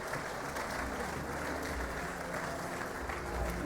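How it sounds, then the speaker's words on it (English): A crowd claps for sheep shearers at the Golden Shears competition, a steady, dense round of applause heard quietly and at some distance, with no break in it. "Give them a one round of applause before we move on to the ball handling."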